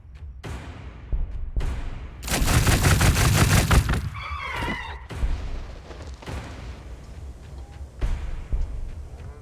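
Armored raptors open fire in Warhammer 40,000: Gladius, a dense burst of loud gunfire lasting a couple of seconds, followed by a whistling effect and scattered quieter thumps.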